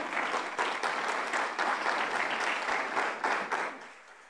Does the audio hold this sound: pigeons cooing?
no